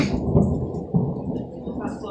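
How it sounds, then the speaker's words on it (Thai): A low, rumbling roll of thunder with a sharper crack near the middle, heard alongside steady rainy background noise. "ฟ้าร้องขออภัยด้วยนะ"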